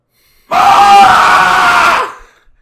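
A person lets out one loud, sustained scream indoors in an apartment, lasting about a second and a half, close and piercing, then cutting off abruptly into silence.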